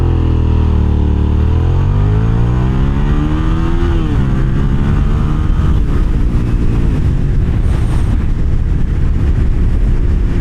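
A 2006 Suzuki SV650S motorcycle accelerates hard from a standstill to 60 on a straight in warm, dry weather. The loud engine note climbs in pitch, drops at each gear change and climbs again, with no talk over it.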